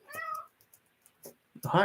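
A cat meows a few times at close range, a long harmonic cry at the start and shorter calls near the end, with quiet gaps between them.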